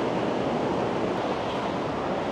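Mountain stream water rushing downhill in Darband, Tehran, a steady, loud, broadband roar with no breaks, heard close and alone without voices.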